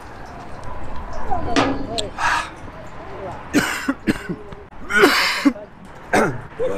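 A person coughs and clears the throat after choking on water from a Cologne drinking fountain: several harsh, close bursts of coughing with gaps between them, with a few vocal sounds mixed in.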